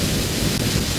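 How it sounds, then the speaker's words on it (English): Many rocket engines of a large fuel station craft firing together in Kerbal Space Program, a dense, steady, loud broadband roar with no breaks, heard alone. "That's all the engines in here on all of these firing."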